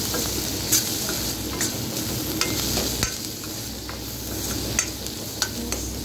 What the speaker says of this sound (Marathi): मसाला परतून घ्यायचा।